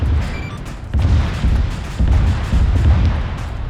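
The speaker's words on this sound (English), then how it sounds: "Inbound cruise missiles." Cruise missile explosions in Arma 3 arrive as a string of deep, heavy booms, about five rumbling impacts in quick succession with no talk.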